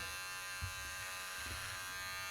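An electric hair clipper hums in a steady, fairly quiet buzz throughout a men's clipper-over-comb haircut, with only faint handling knocks beneath it.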